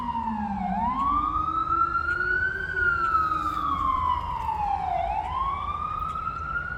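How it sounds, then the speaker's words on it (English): A wailing emergency siren sweeps up and down in long, loud cycles, with traffic rumble beneath it on a New York City street. "If you hear the ambulance or the NYPD,"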